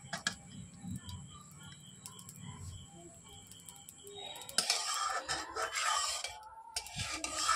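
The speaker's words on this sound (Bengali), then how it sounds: "তো এবার শিলনোড়ায় বাটতেও সুবিধা হবে" Softened leaves being ground on a stone grinding slab with a pestle stone in a home kitchen, a rough rasping rub that starts quietly then grows louder and more vigorous in repeated strokes, with faint ticking in the background.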